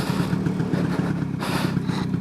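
A 1979 Vespa P200E scooter is ridden and downshifted, its engine a steady, rough mid-pitched drone with wind rush and a slight shift in tone partway through.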